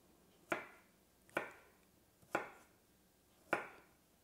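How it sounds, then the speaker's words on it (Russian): Four sharp, evenly spaced knife strokes on a cutting board as chestnuts are cut into small cubes, each a crisp close chop with a short decay, in a quiet kitchen. "Режу я их небольшими кубиками."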